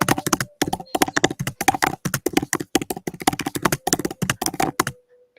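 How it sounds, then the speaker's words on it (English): Rapid, hard keystrokes on a computer keyboard come in uneven bursts with short pauses, close and loud, with no voices. "Aggressive typing."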